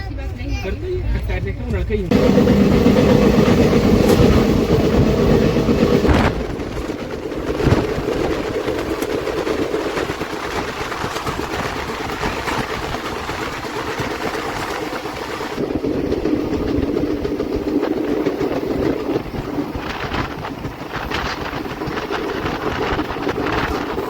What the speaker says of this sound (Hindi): फिर से ट्रेन धीरे धीरे नागपुर की तरफ बढ़ रही है